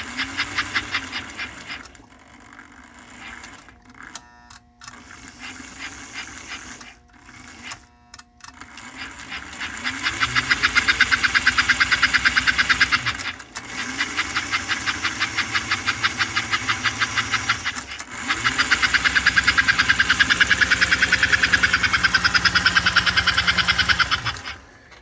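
A 1951 American Flyer #302 Atlantic model locomotive runs on a rolling road, its small motor whirring in repeated bursts that rise in pitch and hold, with chuffing mechanical clatter between short pauses.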